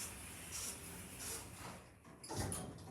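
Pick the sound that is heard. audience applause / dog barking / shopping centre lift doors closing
shopping centre lift doors closing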